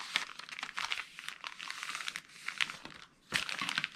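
Sheets of paper being creased and folded into thirds for a handmade gift card holder, giving repeated close crinkling and crumpling bursts with short pauses between them.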